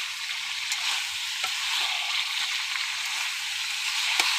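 Fried roast pieces sizzle in cooked-down spice paste in a home kitchen, a steady close frying hiss with a few brief clatters and stirring taps, no talking.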